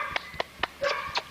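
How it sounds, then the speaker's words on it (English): A predominantly Eli-bred dog barks in a kennel yard, giving about five short, sharp barks in a quick, uneven series, fairly close and loud with no talk over them. "Predominantly an Eli bred dog."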